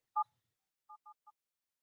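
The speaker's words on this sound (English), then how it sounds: "we can dial 8 on the IVR when we call in to the system, and it will ask us for extension number" Telephone keypad tones dialing into an automated IVR phone system: one clear beep, a pause, then three quicker beeps in a row, clean and isolated against silence.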